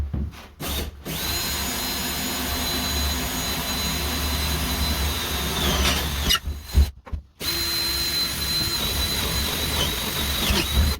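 A power drill whines loudly in sustained bursts during a cabin bathroom window installation, stopping briefly and starting again, up close with no talking.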